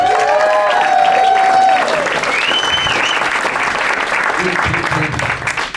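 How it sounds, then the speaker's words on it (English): A comedy-show audience gives a loud burst of clapping and light cheering, dense at first and then thinning out toward the end, with some stage sound mixed in. "Give them a round of applause."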